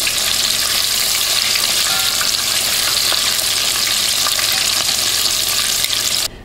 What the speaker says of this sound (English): I'm going to finish cooking the rest, or frying the rest